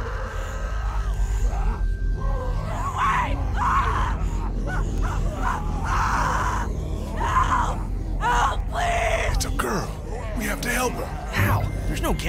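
Agonized screaming and groaning from a character in The Walking Dead Telltale video game, sustained and loud over a dense, rumbling game soundscape with shouting voices.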